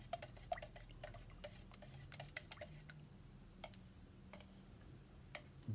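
Brush-on car coach paint, heated in water to thin it, being stirred in a tin: quiet, irregular clicking and tapping of the stirrer against the can rim and sides, close and faint, with no talking.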